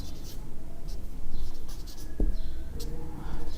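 Pen scratching on paper while a math solution is written out, short strokes following one another close up at an uneven pace, with a faint tap partway through.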